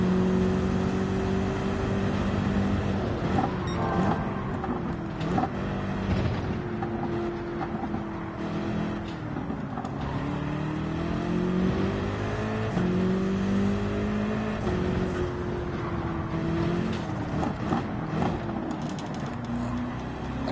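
A race car engine in Gran Turismo 7 at Mount Panorama revs and shifts steadily, rising and falling through the gears with brief lifts off the throttle, loud and continuous.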